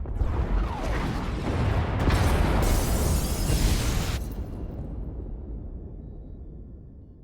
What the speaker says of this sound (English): Pod bays are destroyed.